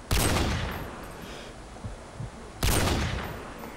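Gunfire in a video game aimed at an elevator, two sharp loud bursts of shots separated by a short lull, with no talking.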